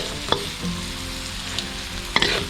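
Spice powder frying gently in a pan on low heat for a Thai guay jub noodle soup, a steady soft sizzle with a few brief clinks and scrapes, close and alone with no talk.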